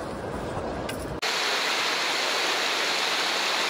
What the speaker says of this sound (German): So, Mike probiert noch immer im schnellen Wasser